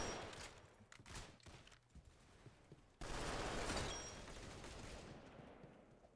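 Submachine gun fire in a shooter video game, with scattered bursts followed by a loud, dense stream of rapid shots that runs to the end, no talking.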